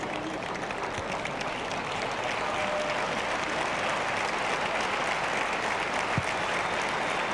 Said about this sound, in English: the crowd here at the Bremer Brücke in Osnabrück trying to get behind the German boys here